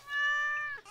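A single cat meow from the Stardew Valley farming video game, clear and close with a tonal, slightly falling pitch, lasting just under a second on its own with no talking.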